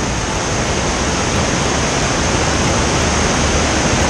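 Tagulanao Falls in Valencia City, Bukidnon roars as a loud, unbroken wash of falling water, heard up close and steady throughout with no other sounds on top.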